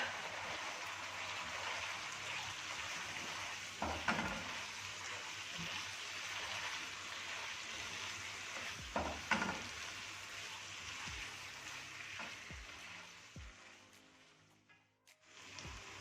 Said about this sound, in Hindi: प्याज और शिमला मिर्च डालूंगी मैं पहले, टमाटर एंड पे डालूंगी। और इसको तेज़ आंच पे